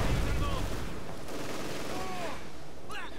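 Battle din from Company of Heroes 2 during Operation Barbarossa, with Soviet forces under fire: sustained rumbling gunfire and distant explosions blend into a continuous wash, with faint whistling streaks and no voices.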